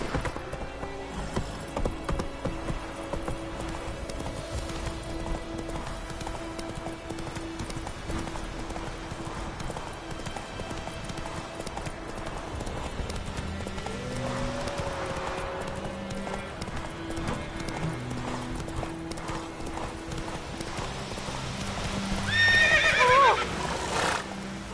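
Horse galloping with steady clip-clop hoofbeats in The Witcher 3 video game, with whinnying neighs breaking through amid game music and effects; the hooves grow louder near the end.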